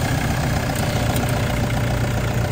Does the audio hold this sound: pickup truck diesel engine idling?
yes